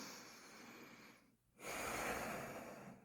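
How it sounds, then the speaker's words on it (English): A slow, deep breath drawn in through the nose, close and soft, following a brief quiet pause, with no talking. "there's nothing more beautiful than being able to take a deep breath in"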